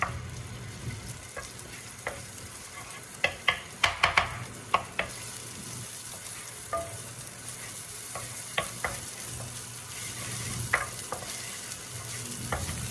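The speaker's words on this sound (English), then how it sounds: "in a pot with some oil, I'm just gonna add in that shallot" Shallots frying in oil in a pot give a soft, steady sizzle, broken by scattered sharper clicks and crackles from stirring, fairly quiet and close with no talking.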